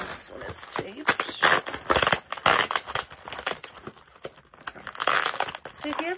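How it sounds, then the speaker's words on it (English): Adhesive tape being peeled and pulled off a large plastic mailing container, with a steady run of crinkling, crackling rips and plastic rustles close up, loud and busy throughout. "if you ever get these big plastic containers, they're usually just taped with this tape. They're not hard to undo."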